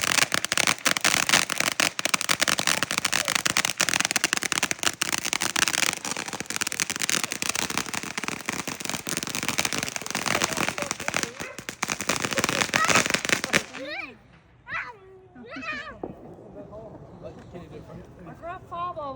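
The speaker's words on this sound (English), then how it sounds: "I got 4 different fireworks in my hand." A rapid, dense barrage of firecrackers and fireworks crackles and pops for many seconds, loud and continuous, then cuts off abruptly as people talk and shout afterward.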